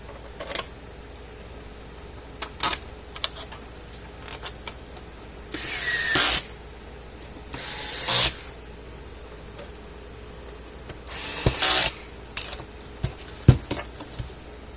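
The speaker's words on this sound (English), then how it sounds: "now we'll put the lid on it, screws back in it" A cordless power drill drives screws into the lid of a Power Wizard PW6000 electric fence charger, three short whirring bursts spaced a couple of seconds apart, close and clear among quiet clicks and handling noises.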